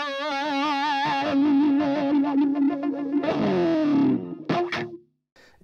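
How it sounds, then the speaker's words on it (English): Distorted electric guitar through a hand-operated wah, a sixties-era sound, sweeping and wobbling in pitch over a busy rhythm, loud and close, then cutting off into short stabs and near silence. "the distinctive wah we hear in that song is in fact a hand wah that they used back in these days"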